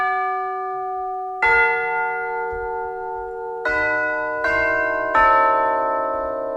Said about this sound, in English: let's just check out the tubular bells